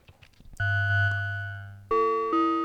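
Korg Volca Modular synth running a ring modulation patch, producing metallic, bell-like tones: a soft clicking lead-in, then a long sustained clangorous note that slowly decays, followed by two sharper bell strikes near the end.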